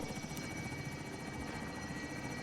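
Helicopters in the video game Call of Duty Warzone, a steady rotor thrum and whine droning continuously in the background, faint, with no talk.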